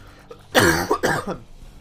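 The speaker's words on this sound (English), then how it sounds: "This coughing is doing me nuts" Someone coughs up close, two harsh, rough bursts in quick succession, loud against a quiet background.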